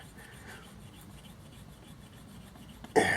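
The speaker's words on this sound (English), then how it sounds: "just ever so slightly rub this back and forth, putting about 30 pounds of pressure on it." A tool rubs steadily back and forth under firm pressure against a dented metal pocket watch case, making a soft, even rasping scrape, ending in a sudden louder clatter.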